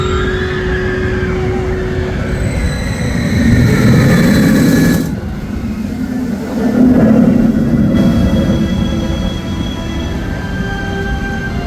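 SeaWorld Orlando Penguin Trek roller coaster train rolling along the track during construction testing, a steady loud rumble and rattling with swelling passes, heard outdoors with no talk.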